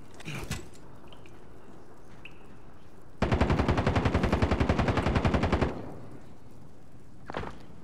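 Automatic gunfire in Call of Duty: Modern Warfare, a loud sustained burst of rapid rifle shots lasting about two and a half seconds, framed by a few isolated distant shots and thuds before and after.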